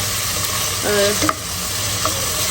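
Onion, ginger and garlic with ground black pepper fry in a pan as a spoon stirs through them, giving a steady close sizzle broken by a few scraping stirs, with no talking.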